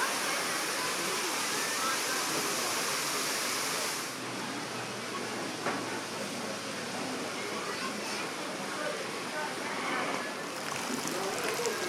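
A busy waterfall rushes beside a village trout restaurant near Altın yayla, a loud, continuous broadband roar of falling water that dips slightly partway through and carries faint background activity.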